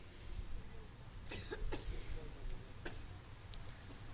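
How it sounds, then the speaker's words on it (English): A few short coughs sound over a steady background murmur, spaced out across the clip, fairly close. "Who else is coughing too much?"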